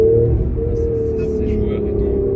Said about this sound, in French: le moteur, il gueule